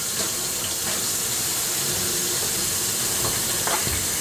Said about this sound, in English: You don't mind waiting on me washing my spatula or my tongs, do you?